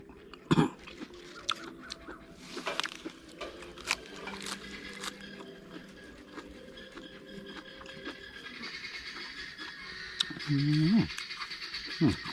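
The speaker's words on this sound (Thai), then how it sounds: "เสียงไก่" A chicken clucks briefly near the end, with scattered clatter and faint background noise before it.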